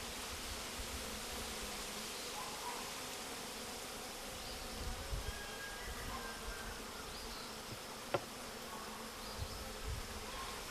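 A dense, steady drone of many honey bees buzzing together at a horizontal hive, with a continuous hum and no voices.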